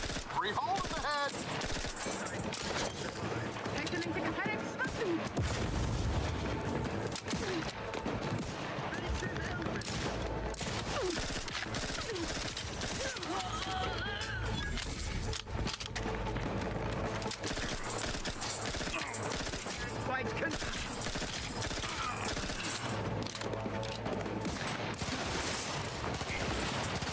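Rapid, loud explosive pistol shots from The Outer Worlds 2 fire over a dense mix of in-game combat, music and effects, in repeated bursts across the whole stretch.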